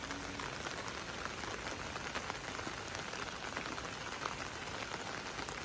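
Steady rain falls on open land, a dense, continuous hiss of drops hitting the ground and surfaces, even in loudness throughout with no voices.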